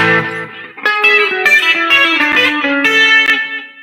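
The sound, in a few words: electric guitar with echo delay effect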